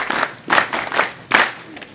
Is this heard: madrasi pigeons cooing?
no